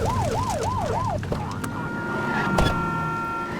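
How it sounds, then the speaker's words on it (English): A police car siren in the open-world police game The Precinct wails in a rising-and-falling pattern for about a second, then stops, leaving engine rumble and traffic noise underneath. "Get behind them and flip the siren and make them pull over."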